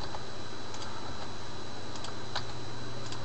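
Computer keyboard typing in a steady flurry of soft, close clicks over a constant hum, with no voices.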